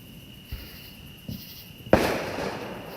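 Fireworks going off around Peachtree City, Georgia on the Fourth of July: a few scattered distant pops, then one louder, closer bang followed by a crackling, hissing tail over a quiet night background.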